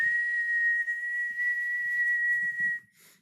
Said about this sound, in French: Je vais quand même la siffler.